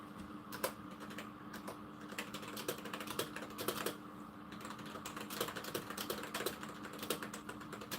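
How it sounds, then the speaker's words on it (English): A computer keyboard is typed on at a steady, brisk pace, rapid clicky keystrokes with occasional louder taps, fairly close and continuous beneath a faint electrical hum, with no voices. "Making too much noise with his keyboard."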